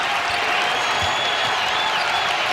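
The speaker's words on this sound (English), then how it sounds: "Crowd trying to become a factor." A packed college basketball arena crowd in Omaha roars and cheers in a dense, continuous wash of noise, loud and distant-sounding, with no single voice standing out.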